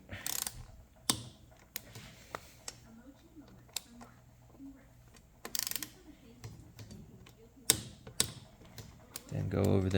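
A torque wrench clicks and ratchets on the front wheel bolts of a BMW G310R motorcycle, sharp scattered clicks and metallic clunks over a quiet background, rising into louder handling noise at the end.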